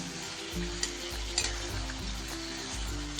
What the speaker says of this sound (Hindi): चिकन को मसालों के साथ अच्छे से भूनना है